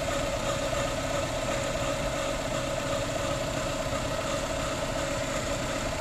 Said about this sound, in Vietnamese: Máy rất là êm luôn và khô luôn.